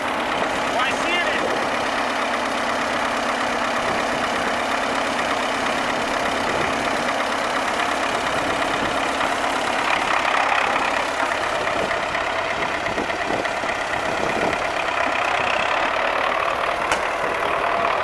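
A tractor engine idles with a steady, continuous rumble nearby while people talk over it.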